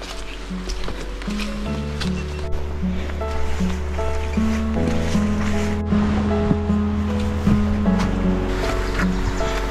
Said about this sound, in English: But you can hear the ocean.